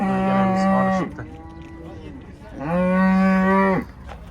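A cow at a livestock bazaar in Namangan gives two long, loud, close moos separated by a short pause, with faint crowd murmur beneath.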